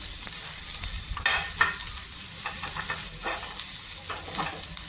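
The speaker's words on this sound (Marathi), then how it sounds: "तर आपण थोडासा कांद्याचा कलर बदलेपर्यंत थोडासा परतून घेणार आहोत" Onions sautéing in a pan for a green pea curry, a steady close sizzle with scraping stirs and occasional sharper clinks of a spatula against the pan, no voices.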